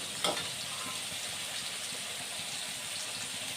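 A pan of corn kernels, moong and rice cooks on the stove with a soft, even sizzle throughout, and a single faint clink near the start.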